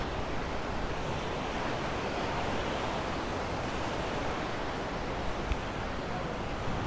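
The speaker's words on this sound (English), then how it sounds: "that water there looks incredibly choppy" Choppy sea churned up by breakwaters at Ciudad Jardín in Palma de Mallorca during rough October seas, a continuous broad roar of surf with wind buffeting the microphone and no talk.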